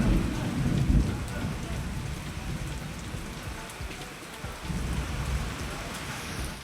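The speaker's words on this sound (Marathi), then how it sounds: "बुलडाणा शहरात सुद्धा अवकाळी पावसानं दमदार हजेरी लावली." Heavy unseasonal rain pours steadily in Buldhana town with thunder rumbling beneath it, a loud continuous wash of downpour with no voices.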